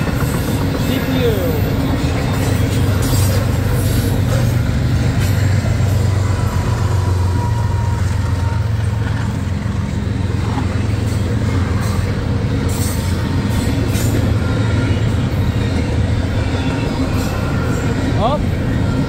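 A CSX intermodal freight train rushes past on the New Castle Subdivision, a loud, continuous roar of rolling wheels and rattling cars close to the track, with faint wheel squeal throughout.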